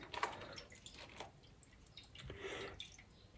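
Very cold Provence rosé poured into a cocktail glass over grapefruit liqueur, a soft dripping and trickling of liquid, fairly quiet and close, with no talking.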